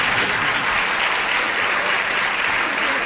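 A studio audience at a television game show breaks into sustained, even applause, a continuous wash of many hands clapping without a pause.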